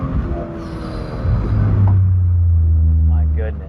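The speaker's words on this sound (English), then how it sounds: "let me get you guys some sound clips of this exhaust with a nice mic" A BMW M240i's exhaust drones low and loud, building from a rumble to a steady deep roar as the car pulls away, while a voice talks over the first part.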